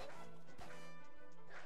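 Dog-like creatures yelping and barking as they are struck in Ni No Kuni: Wrath of the White Witch, short sharp cries with impact thuds over game music, with a voice talking alongside.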